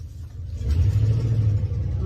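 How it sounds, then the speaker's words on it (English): A truck drives around a horse farm, its engine swelling into a steady, close, heavy low rumble that holds for about two seconds, with no speech. "I'm going to pause for a moment because the truck is coming around"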